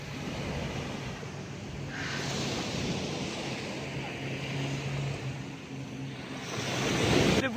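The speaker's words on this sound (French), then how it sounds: "Le bruit des vagues derrière," Ocean waves wash onto a beach in Malaga, a broad continuous surf roar with swelling and receding surges, building louder toward the end, with some wind.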